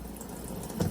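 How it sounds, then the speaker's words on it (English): Water poured from a can or hose onto soil over freshly sown fava bean seeds, a steady close trickle that swells briefly near the end. "Time to water it again."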